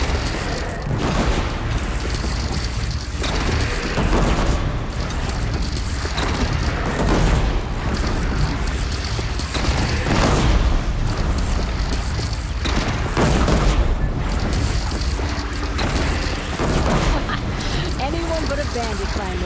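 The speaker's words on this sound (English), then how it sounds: "They only have one cannon!" Cannon fire in the video game Horizon Zero Dawn, in a fight with a bandit clan, comes as heavy booms that repeat inside a dense, loud battle din, with shouting voices mixed through it.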